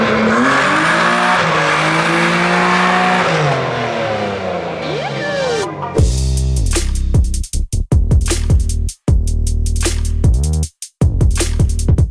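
A BMW E46 drifting on the street, engine revving hard with rising and falling pitch, then loud tire squeal and skidding bursts broken by brief gaps.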